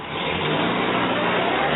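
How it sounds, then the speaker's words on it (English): A posh car pulls away in the rain, its engine revving up and holding a steady mid-pitched drone close by, with no talk. "He's driving off"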